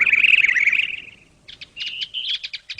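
Cartoon birds chirp: one bright, sustained trilling call fades out, then a quick run of short, sharp tweets follows, loud and close, with no talk.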